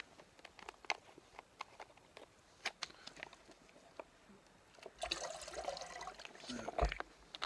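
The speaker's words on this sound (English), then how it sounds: "And pour that in." Liquid poured into a pot while cooking outdoors on Grandfather Mountain: a few seconds of soft trickling and splashing, quiet and close, after scattered small clicks and knocks of handling.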